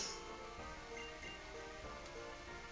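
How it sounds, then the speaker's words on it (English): Pokemon Blaze Black's in-game rain plays as a steady, soft, even wash of falling droplets. It runs unbroken and fairly faint, with the game's chiptune music layered faintly beneath. "Hoping this rain stops."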